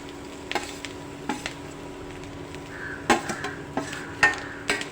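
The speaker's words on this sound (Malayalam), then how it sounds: "ഒരു വലിയ തേങ്ങ ചുരണ്ടിയതാണ് ഇത് നമുക്ക് അതിലിട്ട് വറുത്തെടുക്കാം" Grated coconut roasting in a pan, a soft steady sizzle with scattered sharp scrapes and clinks of a spoon stirring against the pan, close and fairly quiet, no talking.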